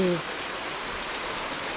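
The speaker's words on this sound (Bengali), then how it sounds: "এখানে বিশাল বৃষ্টি হচ্ছে" A steady, dense hiss of heavy rain, unbroken throughout.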